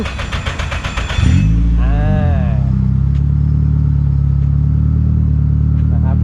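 A Nissan Silvia S15 engine with a titanium exhaust starts up and settles into a loud, steady, deep idle rumble, close by, with no one talking over it.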